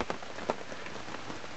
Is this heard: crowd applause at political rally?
no